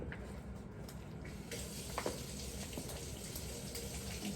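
Tap water runs in a steady, soft stream into a kitchen sink while food is rinsed, a continuous faint wash with no voices.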